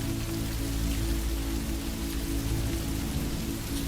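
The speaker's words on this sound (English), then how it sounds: "A day of steady, gentle rain enveloped the Sunken Vale, not a harsh downpour, but a persistent, soft drumming on the thatch roofs" Steady, gentle rain falls continuously with an even, soft hiss and a constant patter, no thunder or voices, uniform in loudness throughout.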